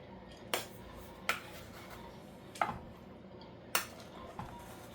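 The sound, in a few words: mixing rice in a small pot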